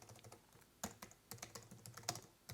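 Rapid keystrokes on a Logitech MX Keys for Mac keyboard, a quiet, uneven run of soft clicks with a few sharper taps, heard close with no talking.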